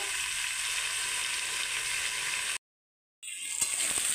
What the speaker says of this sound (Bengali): এই যে আমি নেড়ে দিচ্ছি, দেখুন আমি কিন্তু মাঝে মাঝে নেড়ে দিচ্ছি, নাহলে তলায় লেগে যাবে, ধরে যাবে।